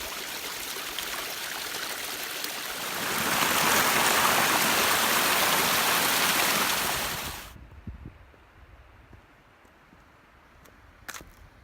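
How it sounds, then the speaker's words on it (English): Rushing, splashing water from small waterfalls in the Jennie Lakes Wilderness, swelling louder midway then cutting off abruptly to quiet outdoor ambience with a few soft clicks. "Little waterfalls everywhere."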